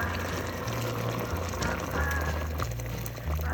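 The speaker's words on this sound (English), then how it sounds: "We will take this water I boiled, pour it in." Boiled water pours steadily into a pot for chicken and vegetable soup, a continuous close splashing gush with a low hum underneath.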